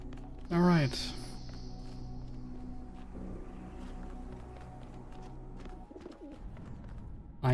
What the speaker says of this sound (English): I hear the pigeons.